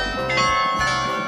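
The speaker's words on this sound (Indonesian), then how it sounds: "Setiap kali ada lonceng ini menandakan bahwa tidak boleh lagi ada perang." A bell tolls at a World War I memorial in a Belgian village, its bright, sustained ringing overtones hanging steadily over a low background hum.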